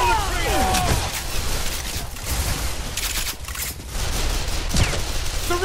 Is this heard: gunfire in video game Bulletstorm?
yes